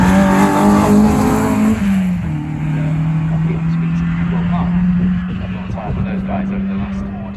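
A rally car engine at the East Riding Stages Rally near Beverley idles and revs with a steady droning note that drops after a moment, close and loud, with a commentator talking over it.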